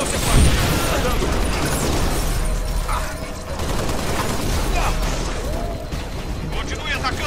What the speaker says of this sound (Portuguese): Atirando! Está acabando comigo!